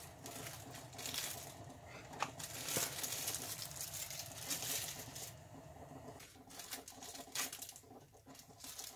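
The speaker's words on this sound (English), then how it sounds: "I'll take these cheese slices out of the plastic here." Cheese slices are pulled from their plastic wrapping in a kitchen, giving quiet, irregular crinkles and rustles with a few sharper crackles spread across several seconds.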